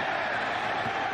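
A packed football stadium crowd at a 2001 Auburn at Georgia college game roars in a broad, sustained wall of cheering, steady and loud throughout the short stretch.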